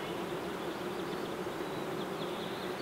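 Honey bees at a hive building out comb make a dense, continuous buzzing drone, close and steady throughout.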